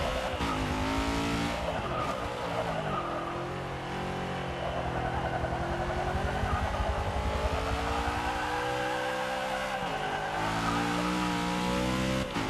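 A 1970 Chevrolet El Camino in Forza 6 roars through a time-attack lap, the engine note rising and falling with shifts while tires squeal through corners, loud and continuous.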